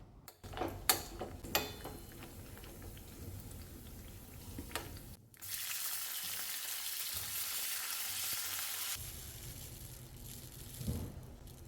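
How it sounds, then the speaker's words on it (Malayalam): Steady sizzling of cashews and raisins frying in ghee in a pan, with intermittent clinks and scrapes of a spoon stirring, close and continuous. "കുറച്ച് നെയ്യ് ഒഴിച്ച് അണ്ടിപ്പരിപ്പും മുന്തിരിയൊക്കെ ഒന്ന് വറുത്തെടുക്കാം"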